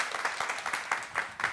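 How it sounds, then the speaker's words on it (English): An audience breaks into a brief, dense round of applause, a busy crowd of clapping hands held at a steady moderate level. "give them a round of applause"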